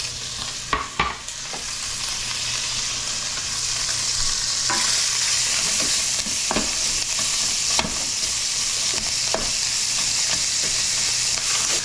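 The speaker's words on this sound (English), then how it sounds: "get our bacon going in there." Bacon sizzles loudly and steadily in a pot for a braised chicken, cabbage and potato dish, punctuated by several sharp spatula taps and scrapes against the pot, close and without speech.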